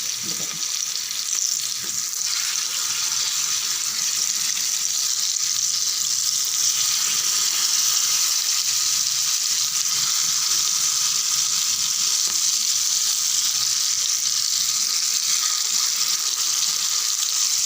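Ribbonfish (vaala meen) fries in oil over a medium flame, giving a continuous, even sizzle with a faint crackle throughout and no voices.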